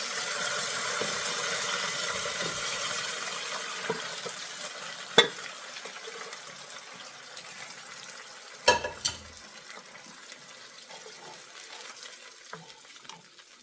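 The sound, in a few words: pouring cooked bilimbi and jaggery water into frying pan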